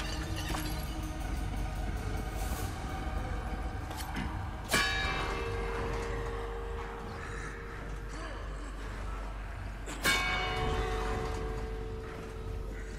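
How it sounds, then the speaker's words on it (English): A church bell tolls in the Resident Evil 4 remake, two loud distinct strikes several seconds apart that ring out and decay over a low droning game ambience. "I hear the bell."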